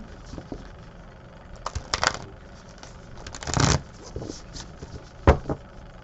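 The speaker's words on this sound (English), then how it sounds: "I'm going to shuffle these a few times" Quiet handling noise with several short bursts of oracle card shuffling, papery riffles and scrapes spread out over a few seconds.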